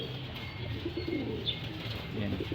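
Racing pigeons coo softly at close range, with low throaty murmurs overlapping and a faint chirp or two over a quiet background.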